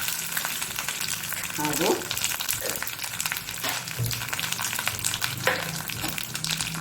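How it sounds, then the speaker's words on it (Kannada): Mustard seeds, curry leaves and a chili crackling in hot oil for a tempering, a dense close sizzle with popping bursts and stirring scrapes, a brief voice over it. "ಸಾಸಿವೆ ಉರಿಯುವಾಗ ಕರಿಬೇವಿನ ಸೊಪ್ಪು ಮತ್ತು ಒಂದು ಮೆಣಸು"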